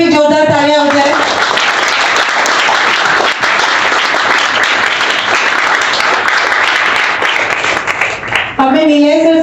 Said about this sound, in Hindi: सर के लिए भी जोरदार तालियां हो जाए